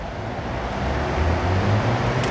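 Rail replacement bus, a Solaris Urbino 18 articulated city bus, rumbling past in traffic: a steady low engine and road roar builds slightly toward the end, with no talk.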